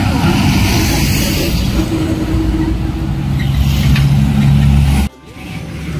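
Heavy traffic rushes by beside a highway where cars are parked, a loud, continuous close roar of passing vehicles with engine drones that cuts off sharply near the end.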